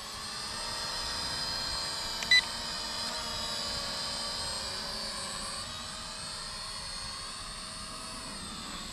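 A Maginon QC 800 SE quadcopter drone flies outdoors, its rotors giving a steady high-pitched whine and buzz that holds at an even level throughout, with a brief click near the start and no talk.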